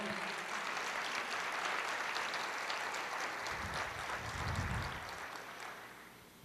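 A church congregation applauds in a dense, continuous patter of many hands, holding steady before swelling briefly and then fading out, with little talk over it.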